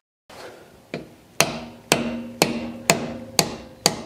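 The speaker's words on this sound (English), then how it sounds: "I'm gonna hit it a few times with a plastic hammer just to loosen it up there" A plastic hammer strikes an axle bolt on a Porsche 911 3.2 Carrera eight times in a steady rhythm, each sharp knock close and growing firmer after the first few light taps.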